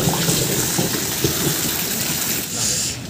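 Rainwater pours through a leaking shop roof in front of the shutter during a downpour. A steady, close splashing and gushing of falling water continues throughout and eases slightly near the end.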